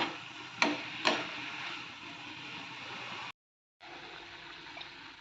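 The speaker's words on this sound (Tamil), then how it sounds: "புடலங்காய் கடலப்பருப்பை போட்டுக்கலாம் லேசாக கிளறி கொடுத்துக்கலாம்" Snake gourd and chana dal stirred in a pan, a soft watery sizzle with two sharp utensil clicks early on, a brief drop to silence, then the gentle simmer resumes.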